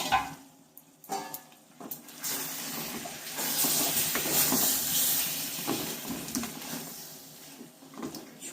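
Hot water goes into a pan of chicken kosha cooked without oil, and a broad sizzling hiss of steam rises for several seconds, bracketed by soft clinks and shuffling kitchen noises.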